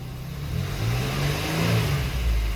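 A Jeep Wrangler with an electronic throttle control fault runs at a smooth, steady idle, a close, even mid-pitched engine drone with a slight swell partway through.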